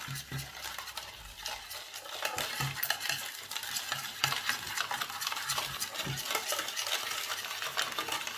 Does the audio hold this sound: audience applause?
no